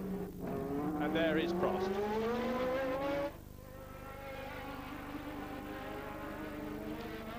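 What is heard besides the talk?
Formula One race car driving past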